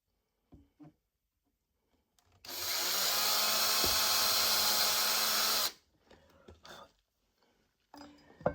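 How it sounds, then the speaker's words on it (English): A drill bores a hole through a wooden charcuterie board in one steady, loud burst of about three seconds, with faint handling knocks and scrapes before and after. "Just to get a hole drilled."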